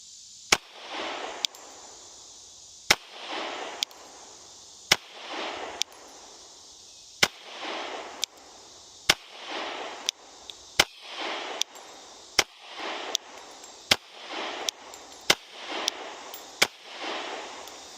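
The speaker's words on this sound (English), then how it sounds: "We'll see how I can shoot this gun if we're all zeroed in and ready for the day." A Glock 30 MOS pistol fires .45 Super rounds outdoors. About seventeen sharp, separate reports come at an uneven pace of one every second or so, each trailing off into a short echo with quiet between shots.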